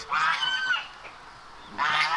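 An aggressive rooster squawks harshly while attacking another rooster on a farm, two loud strained cries separated by a short pause, close by.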